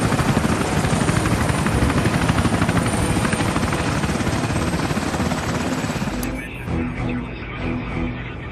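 A Sikorsky X2 technology helicopter flies past with a loud, steady rotor thrum and engine drone. It holds for several seconds, then drops abruptly to a softer, fading roar.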